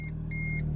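A supercar's engine idles with a steady, loud low rumble close by, while brief high electronic beeps repeat over it at intervals.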